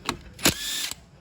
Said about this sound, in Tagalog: impact wrench para mas madali siyang baklasin